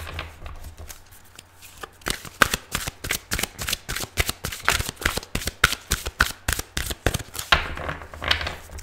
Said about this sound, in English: I'm using the Psychic Tarot deck by John Holland